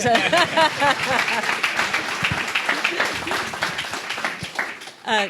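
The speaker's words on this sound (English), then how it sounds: "You can applaud them" An audience at an accelerator showcase applauds, steady clapping that starts under a speaking voice and continues on its own before fading near the end.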